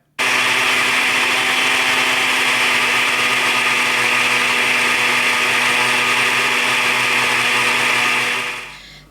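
A blender grinds coriander and mint with water loudly and steadily for several seconds, a dense whirring roar that cuts off abruptly near the end.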